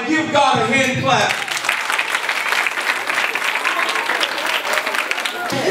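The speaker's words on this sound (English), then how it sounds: "give God a hand clap." Church congregation breaking into hand-clapping applause, starting right after a voice speaks, then building into dense, loud, sustained clapping that carries to the end.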